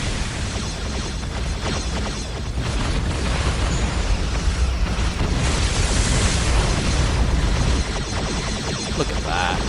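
Starship weapons fire in the space combat game Star Trek Continuum, a loud sustained barrage of rumbling explosions and pops running throughout.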